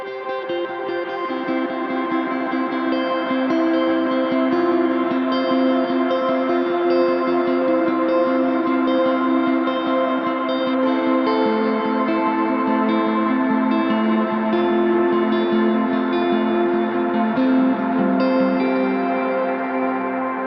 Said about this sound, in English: We also included a couple of pad ambient tones on this pack.